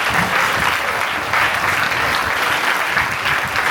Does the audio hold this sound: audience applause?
yes